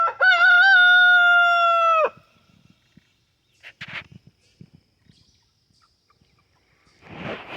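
A rooster on a small farm crows once, loud and close, for about two seconds. Faint scuffs and rustles follow, with a brief burst of noise at the end.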